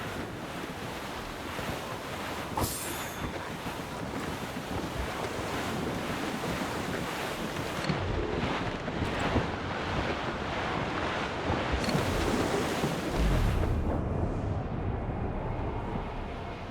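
Stormy wind roars and heavy sea waves crash continuously around a sailing ship in the video game Assassin's Creed Rogue, loud and gusty, with surges of surf and no speech.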